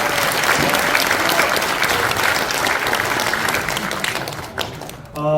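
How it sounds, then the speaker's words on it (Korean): An audience at a New Year forum applauds a member of parliament, dense sustained clapping from a crowd that thins out near the end as a voice begins speaking. "다시 한번 우리 안철수 국회의원에게 박수 한번 부탁드리겠습니다"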